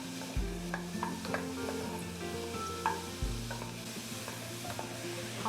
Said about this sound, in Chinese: 现在先炒这个蘑菇